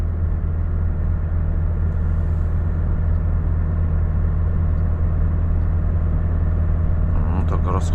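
Heavy Volvo FH 540 truck engine pulling at night on a highway, a steady loud low rumble and drone throughout with no clear rise in pitch.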